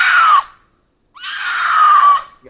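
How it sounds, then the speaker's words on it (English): Mountain lion call: two loud, harsh, descending screams, the first short and the second longer, separated by about a second of silence and heard alone. "And this is what a mountain lion call sounds like."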